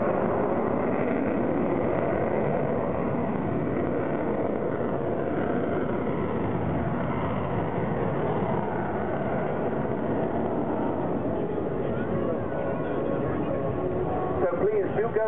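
An Avro Vulcan XH558 jet bomber flies at the Bournemouth Air Festival, a steady, dense roar that continues under a man's loud public-address commentary.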